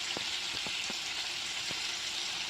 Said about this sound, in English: So I probably fried it for like 4 minutes each side, because I just like my shrimp to be cooked.